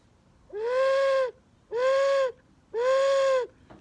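An owl in a forest gives three long, even hoots, each sustained for under a second and evenly spaced, loud and close against a quiet background.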